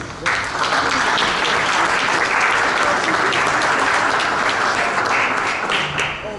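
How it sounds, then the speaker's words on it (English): An audience at a Kwanzaa celebration in Paterson applauds themselves, loud continuous clapping from a crowd that starts abruptly and holds steady for several seconds. "I just want you to give yourselves a round of applause."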